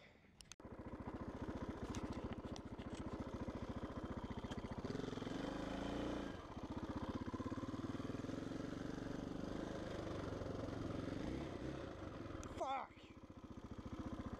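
Motorcycle engine droning steadily while riding through mud after rain, held at a constant mid-pitched throttle with a brief dip, fairly close, with speech over it.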